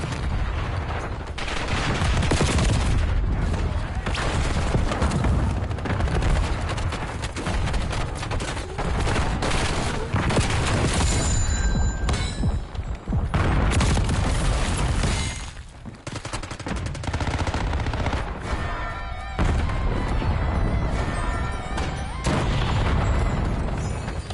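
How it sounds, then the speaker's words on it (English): Semtex and frag grenades go off during a video game firefight, with heavy booms over dense, rapid gunfire. The battle noise stays loud and nearly unbroken, dipping briefly about two-thirds of the way through. "Semtex thrown. Frag!"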